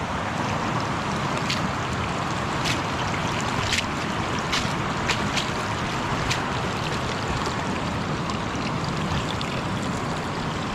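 Strong water rushing steadily through a farm field being diverted, a continuous broadband splashing roar with occasional sharper splashes, close and alone without talk.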